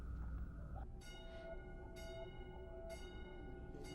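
A bell in the film Vanilla Sky rings in three evenly spaced, resonant strikes, each with a ringing tonal tail, set against steady low background rumble.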